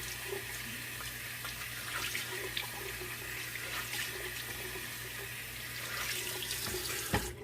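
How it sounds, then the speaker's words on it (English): Cold water runs from a bathroom tap in a steady, moderate stream for several seconds during a rinse after shaving, with a faint clatter near the end and no speech. "Switch to cold water rinse real quick."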